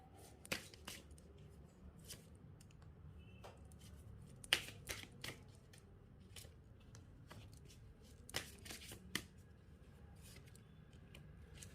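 Tarot cards are shuffled and handled during a reading, giving quiet, scattered riffling and sharp card snaps at irregular intervals over a faint background hush.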